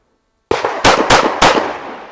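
Glock 19 pistol fired at a shooting range: one sharp shot, then three loud, evenly spaced shots about a third of a second apart, each with a short ringing tail, close and alone.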